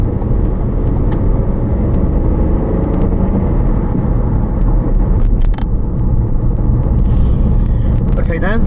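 Car driving around a busy, fast-moving roundabout on the Chertsey route, a constant loud engine and tyre rumble with passing traffic, and people talking inside the car.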